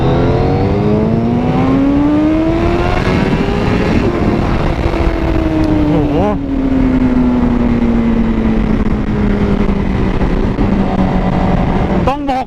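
A Honda CBR1000RR-R SP superbike engine revs loud and close, its pitch climbing in long sweeps, dropping back and surging again with a sharp blip near the end, while someone talks over it.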